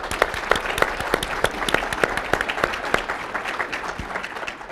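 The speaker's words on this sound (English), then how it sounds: "I want to give her a round of applause" A university audience applauds a departing staff member, a dense, lively round of clapping from a roomful of people that stays steady throughout, with crisp individual claps popping out near the front.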